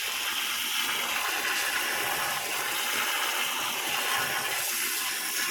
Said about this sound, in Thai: วิธีการก็คือ อัดน้ำลงไปเลย